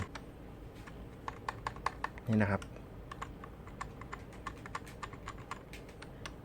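Keys clicking on a Signo Pegasus KB-739 semi-mechanical gaming keyboard, a steady run of light, sharp taps spread across the clip, with a brief spoken phrase near the middle.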